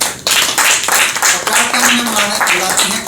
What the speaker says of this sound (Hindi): एक बार जोरदार तालियों के साथ स्वागत कीजिएगा हमारे नवल कवि